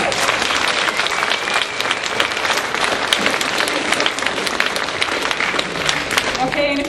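A lecture-hall audience bursts into loud, dense applause, many hands clapping close and sustained throughout, with talk faintly underneath near the end.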